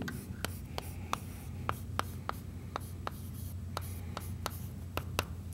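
Chalk or marker writing numbers on a board during a geometry lesson, a series of sharp, evenly spaced taps and short strokes over a low steady room hum, fairly faint and with no voice.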